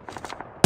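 Call of Duty Mobile gunfire: a quick string of about five light, evenly spaced shots, then a sudden loud blast at the end.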